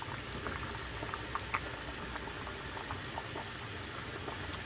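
Smoked beef barley soup boils in a pot with a soft, continuous bubbling and occasional small pops, fairly quiet and steady throughout.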